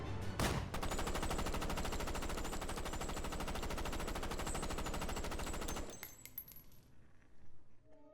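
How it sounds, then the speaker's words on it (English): Sustained machine gun fire in a reenacted 1920s Chicago gangster shooting: a dense, rapid burst of rounds runs for nearly six seconds, loud and close, then cuts off into quieter clatter, like casings falling. "The assassin shot 70 rounds."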